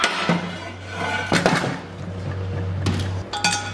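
A wheel bearing pops out of a Harley-Davidson Road Glide wheel with several sharp metallic clicks and knocks, close up, with faint clinks and handling noise between them.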